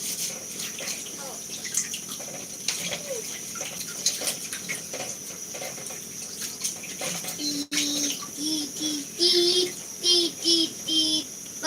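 Tap water runs steadily over betel leaves being washed by hand, a close, continuous splashing stream with brief tonal gurgles near the end; a voice and other talk are faintly present.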